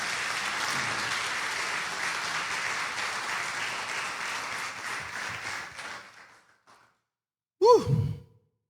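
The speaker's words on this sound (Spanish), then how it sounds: "¿Será que puede darle un aplauso de gratitud al Señor por esta mañana?" Church congregation applauding in gratitude during a service, a broad steady clapping that fades out after about six seconds, followed by silence and then a single close, breathy sigh.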